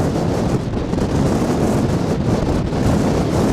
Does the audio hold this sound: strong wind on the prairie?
yes